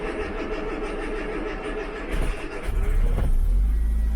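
Austin Allegro engine cranking on the starter with choke applied, a steady grinding churn that catches near the end and rises into a louder running rumble.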